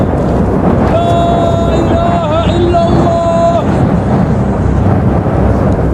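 Strong wind blows steadily and roars loudly throughout, with a faint tonal call drifting through the gusts in the middle.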